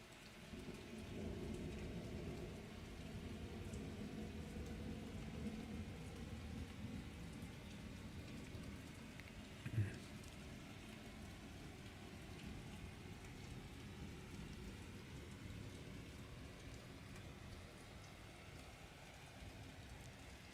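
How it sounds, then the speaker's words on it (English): Heavy rain pours in a steady, dense hiss during a thunderstorm, with low rumbling thunder underneath and one brief sharper crack midway, fairly faint and distant throughout. "it's raining really hard. Can you hear it?"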